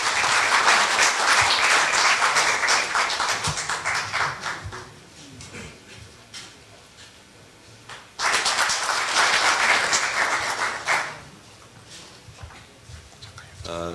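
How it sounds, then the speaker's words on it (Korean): An audience at a university forum applauds the forum chairman in two loud bursts, a long opening round that fades and then a second strong round, with quieter murmuring between and speech starting at the end. "큰 박수로 위원장님 맞아주시면 감사하겠습니다"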